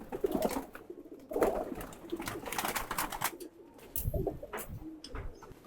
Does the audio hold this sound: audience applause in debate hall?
no